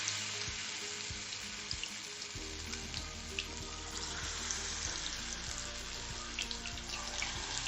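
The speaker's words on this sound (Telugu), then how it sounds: "ఇది కొద్దిగా హీట్ ఎక్కాక మనం ఇందులో ఒక్కొక్కటిగా వేసుకుంటూ డీప్ చేసుకోవాలండి." Pieces of chicken 65 coated in rice flour deep fry in hot oil over a medium flame, a dense, even bubbling sizzle that runs throughout with faint crackles and a few light knocks, no talking.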